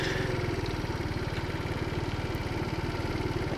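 A Taotao scooter's small engine runs hard at full throttle, a steady, close buzzing drone with a fast even pulse and no pauses.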